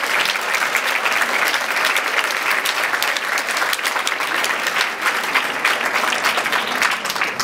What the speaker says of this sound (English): We'll give it a round of applause for this.